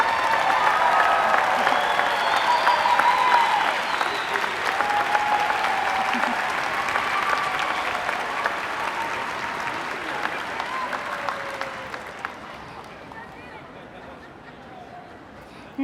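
An audience at a 2023 high school graduation claps for the graduates' parents, a broad, dense wave of applause with some crowd murmur that gradually thins and fades toward the end.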